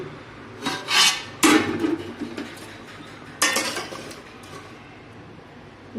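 Boiled dal and potatoes stirred in a pot, a few loud, close scrapes and clanks of a metal spoon against the vessel in bursts, with quiet stretches between.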